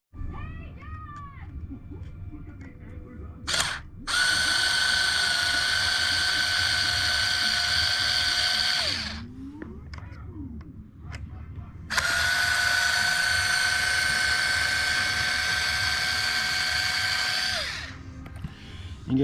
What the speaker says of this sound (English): I'm going to take my 2mm hexes, 2mm hex bit, and I'm just going to go ahead and I'm going to drive these off quick